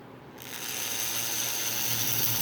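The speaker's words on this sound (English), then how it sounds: "That's an AC motor, modified." Modified AC motor running on an American Flyer open-frame model train, a steady whirring, ratcheting mechanical buzz that rises slightly after a quiet start and stays constant and close.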